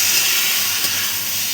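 Rice stirred and fried with spices in a hot pan gives off a steady, loud sizzling hiss that runs unbroken from start to finish, with no talking.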